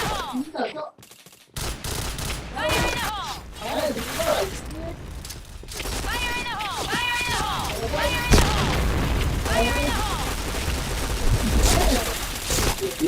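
Rapid gunfire and booming shots in an Indonesian internet-café shooter game, in dense bursts and volleys over a steady busy game background, with a person talking through much of it.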